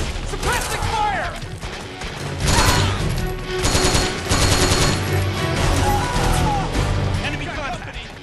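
Bursts of automatic gunfire and impacts in a Metal Gear Solid 4 battle at a highland location, loud and continuous with heavier volleys midway, layered with shouted in-game voices.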